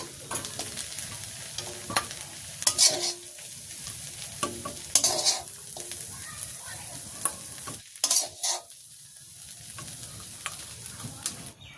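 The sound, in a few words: stirring and frying leafy greens in a pan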